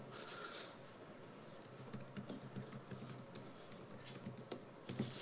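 Quick, light keystrokes on a computer keyboard patter through the whole stretch as code is typed, soft and close, in irregular bursts with no voices.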